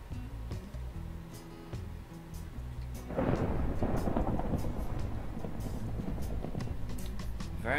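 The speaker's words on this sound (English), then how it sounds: "It's just thunder in the background." Deep rolling thunder swells in partway through, a loud sustained rumble with rain-like hiss over faint background game sounds, continuing to the end.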